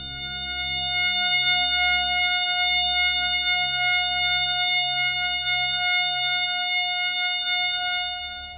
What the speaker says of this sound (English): 3600 vibration cycles create the A sharp needed to complete yet another F sharp major chord that sounds like this